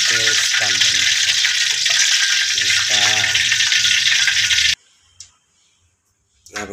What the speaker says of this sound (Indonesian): Kita panaskan minyaknya lalu kita goreng